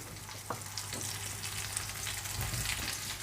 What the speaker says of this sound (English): I'm now going to add in 400 grams of my cubed potatoes, add in my onions.